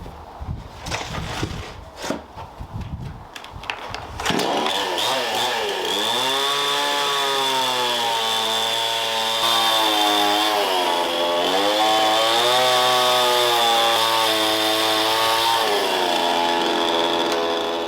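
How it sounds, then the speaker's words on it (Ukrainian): A chainsaw-like saw starts after a few seconds of clatter and runs steadily, cutting notches into a wooden log, its pitch wavering up and down, loud and close. "Робимо пилкою надрізи."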